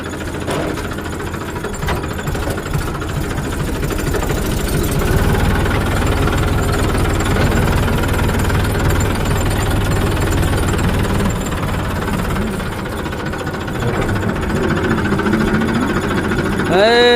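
A tractor engine, hauling a water tanker, chugs loudly and continuously with a heavy knocking rumble, while voices speak faintly beneath the noise.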